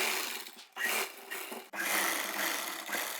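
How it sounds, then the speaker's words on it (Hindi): A sewing machine stitching a belt onto a lehenga, a quiet steady mechanical whir running in bursts with brief pauses between runs of stitching. "अब यहाँ पर सिलाई लगाकर इस बेल्ट को अटैच कर लेंगे।"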